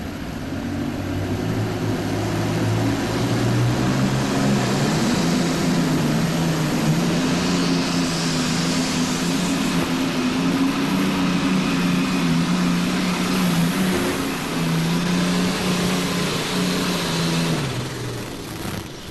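A twin-turbocharged Allis pulling tractor engine at a 1991 farm machinery show pull, roaring loudly and steadily with a deep droning tone that swells as it revs, then fades near the end.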